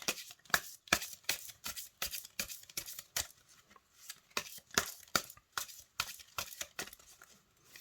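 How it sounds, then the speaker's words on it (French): A deck of oracle cards being shuffled by hand, a rapid run of crisp riffling flutters in quick bursts, close and fairly quiet, with no voices. "je vous propose de battre les cartes et on va en tirer une pour lire le message"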